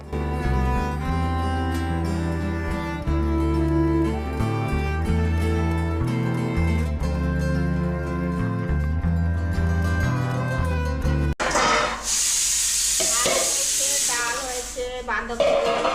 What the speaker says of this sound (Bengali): এই হলো এই সিমলা বৃদ্ধাশ্রমের রান্নাঘর যেখানে প্রতিদিন এখানকার আবাসিকদের জন্য রান্না করা হয়